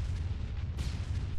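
A deep, rumbling explosion in the military shooter ARMA III, a sustained low boom with no speech over it.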